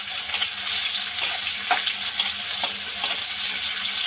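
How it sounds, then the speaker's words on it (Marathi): Mustard seeds pop and crackle in hot oil while being tempered for an Indian meal, a steady close sizzle broken by sharp irregular snaps scattered throughout. "हे पहा आता मोहरी चांगली तडतडली आहे।"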